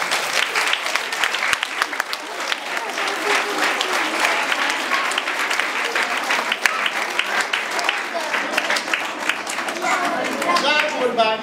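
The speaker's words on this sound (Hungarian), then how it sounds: "Kedveseim, köszöntjük nagy tapsal ezt a rendőrt" Sustained applause from a crowd at a photo exhibition opening, steady hearty clapping throughout with voices mixed in beneath it.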